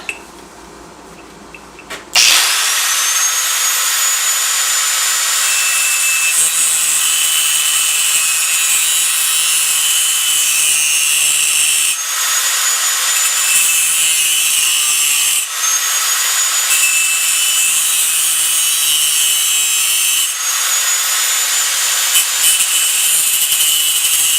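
A part for an Enfield 350 Bullet motorcycle being cut: after a brief quiet start, loud, unbroken high sawing and grinding runs steadily to the end with slight dips in pitch.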